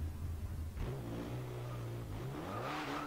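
A Jeep with a Pentastar V6 revs hard climbing a steep hill in Garry's Mod, its engine note rising and holding as a droning, strained tone, then surging again near the end, close and alone.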